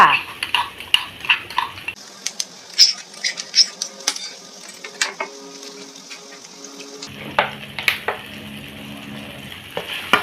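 Vegetable oil with pounded chili and garlic stir-fried in a pan, giving repeated clinks and scrapes of a utensil against the pan with light sizzling and some running water, close and busy throughout, with no talking.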